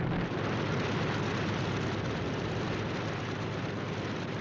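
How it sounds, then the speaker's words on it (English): US dive bomber aircraft engines drone as a steady, dense roar, continuous and unchanging throughout, with no voices. "US dive bombers, approaching unseen at high altitude,"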